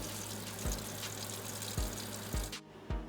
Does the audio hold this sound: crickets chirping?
no